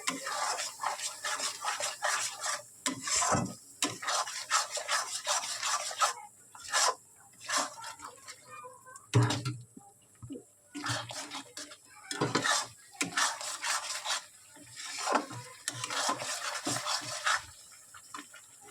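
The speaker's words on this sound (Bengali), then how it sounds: "এটা ভালো করে কষাবো মশলাটা" Ginger-garlic paste masala for a prawn malai curry is fried and stirred in a pan, with rhythmic close scraping and rasping of a spatula against the metal, clinks between strokes and faint sizzling underneath.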